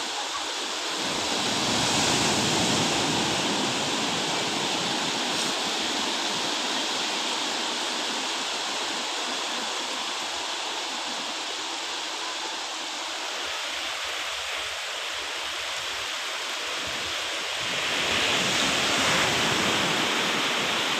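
Rough surf at Digha beach in India: a continuous, loud roar of breaking waves that surges early, eases through the middle and builds again near the end, with no voices.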